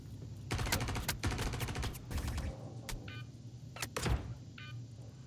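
Gunfire in the video game Star Citizen: loud, close bursts of rapid automatic fire crackle in quick succession, then a few sharper single shots ring out between short electronic tones.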